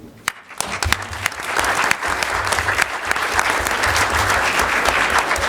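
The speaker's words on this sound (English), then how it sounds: "So I would like to give you a big applause" Sustained applause from the audience at a Calexico city council meeting: many hands clapping in a thick, continuous wash that swells after a brief quiet start and stays strong throughout.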